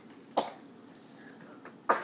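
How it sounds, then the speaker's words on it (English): A child coughs twice, each a short, sharp burst, near and fairly loud, with a long quiet gap between them over faint room noise. "Uh-oh, you got a cough too."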